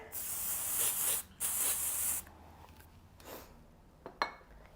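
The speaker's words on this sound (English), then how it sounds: "So now I'm going to spray this with our triple take here." Redken Triple Take hairspray is sprayed onto styled hair in two close, loud hissing bursts, followed by quieter rustling and faint handling sounds.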